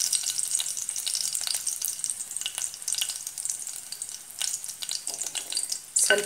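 Crushed garlic fries in hot oil in a pan, a continuous close crackling sizzle with scattered pops and a brief louder burst at the end.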